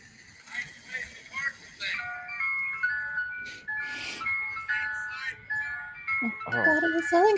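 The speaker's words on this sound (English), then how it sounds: "you'll hear him complaining, rightfully so, about this friggin' ice cream truck" An ice cream truck playing its slightly off-key electronic jingle, a string of bright melodic notes heard faintly under ongoing conversation, with a dog and other background sounds mixed in.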